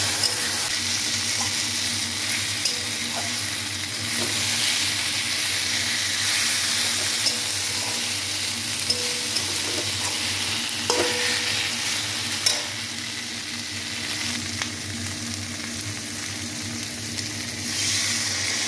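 Ginger, garlic, cumin and coriander masala with tomato frying in a pan, a continuous close sizzle and hiss with occasional scraping clicks of a spoon stirring through it.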